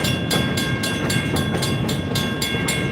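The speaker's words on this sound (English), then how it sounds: "filming this train action" Escanaba & Lake Superior Railroad train with locomotives 501 and 402 rolling steadily past up close, a continuous loud rumble with regular clickety-clack wheel beats over rail joints and no voices.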